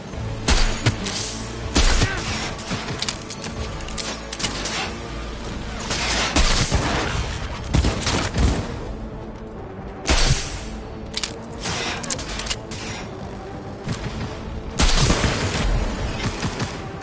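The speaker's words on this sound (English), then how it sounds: "Open fire!" Sustained gunfire from Cyberpunk 2077 fills a firefight: loud bursts and single shots mixed with heavier booms and thuds, with stronger blasts recurring every few seconds over a constant roar of battle.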